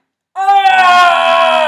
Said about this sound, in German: Schrei.